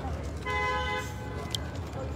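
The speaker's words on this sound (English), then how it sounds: "I was like, who's honking?" A car horn gives a single honk of about half a second, moderately close, amid outdoor traffic noise and nearby talking.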